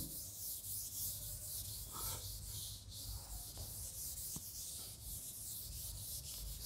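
Writing is rubbed off a board with steady, rhythmic scrubbing strokes, a close, continuous abrasive swishing that continues throughout without any talk.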